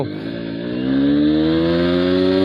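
A Honda Xblade motorcycle engine hums under riding, its pitch climbing steadily as it accelerates in a low gear, loud and close with a smooth, continuous whine.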